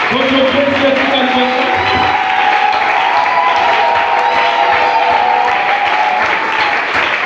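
A church congregation applauds at a tabernacle service, dense clapping and crowd noise filling the whole stretch at a loud, steady level while sustained tones from music or voices carry over it.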